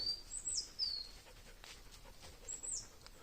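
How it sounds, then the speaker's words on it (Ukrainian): Birds in a sunny Carpathian forest give thin, high chirps and short whistled calls in a few brief bursts, quiet and somewhat distant over soft outdoor ambience. "Від сонечка пташки звеселіли, співають."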